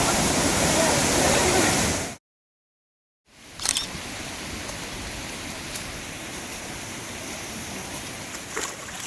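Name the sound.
water rushing in a forest stream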